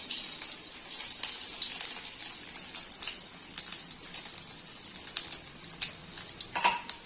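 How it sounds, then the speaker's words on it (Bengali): Garlic frying in hot oil in a wok for chilli chicken makes a continuous crackling sizzle with scattered sharp pops, heard up close for several seconds with no voices. "এবার কড়াইতে রসুন ফোড়ন দিতে হবে।"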